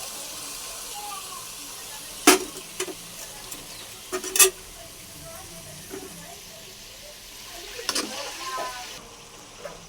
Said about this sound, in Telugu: పసుపు, జీలకర్ర వేసుకొని బాగా ఫ్రై చేసుకోవాలి